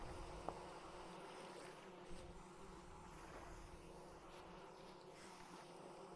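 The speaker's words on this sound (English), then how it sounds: "The sound of bees?" Bees in the video game Vintage Story give off a faint, steady buzzing drone that hangs evenly in the background, with no one speaking.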